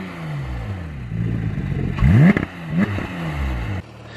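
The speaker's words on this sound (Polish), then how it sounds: "Na koniec jeszcze dźwięk wydechu." Porsche 911 GT3 with a 4-litre six-cylinder engine and 500 horsepower, its exhaust blaring loudly nearby as the engine idles, then revs hard in two sharp rising bursts before settling back and cutting off.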